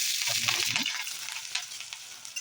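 Potatoes and paneer fry in oil, sizzling and crackling briefly, with a few stirring scrapes near the start.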